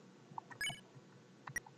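Electronic phone-call beeps in the Undertale video game, a few short, clean synthetic tones and chirps scattered across a quiet moment, fairly soft with brief gaps between them.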